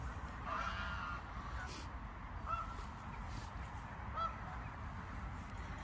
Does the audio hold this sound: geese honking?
yes